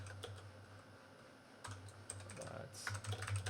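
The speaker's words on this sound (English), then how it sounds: "Oh, I'm still typing the wrong freaking thing." Typing on a computer keyboard while writing code, quiet irregular clicks and clacks up close that cluster into quick bursts, over a low electrical hum.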